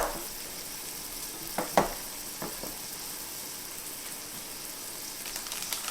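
Steak fajita strips sizzle steadily in a hot pan as melted butter is poured over and stirred in, with a few sharp spatula scrapes and clicks over the continuous crackling hiss.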